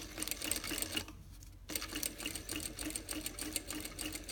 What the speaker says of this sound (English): I have put the machine on a very low speed because I wanted to see what I'm doing.